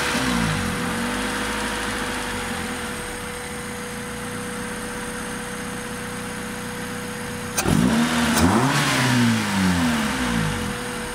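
Car engine idling with a steady low drone, then revved up sharply with a surge of intake roar that rises and falls a couple of times, close and loud.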